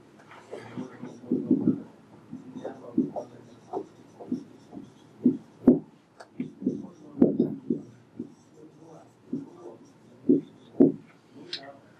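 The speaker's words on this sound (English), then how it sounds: "Write down the definition." Pen or pencil writing on paper in a quiet room, a series of soft, irregular scratching strokes with short pauses, close and faint.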